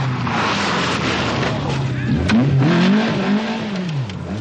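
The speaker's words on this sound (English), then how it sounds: "he's struggling hard for gears here and is about to come to grief" A 1985 Nissan rally car engine revs hard, its pitch rising and dropping as the driver struggles for gears on a Circuit of Ireland stage, loud and close with a commentator's voice over it.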